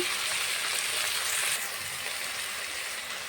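Ground spice pastes of green chilli, ginger, garlic and cumin, with coriander powder, sizzle loudly in hot oil for a fish curry, making a dense, steady frying hiss close by with no talk.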